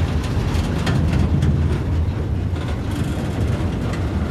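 A subway train in a video game set in an abandoned New York City subway station pulls away, giving a loud, steady rumbling roar that holds evenly with no voices over it.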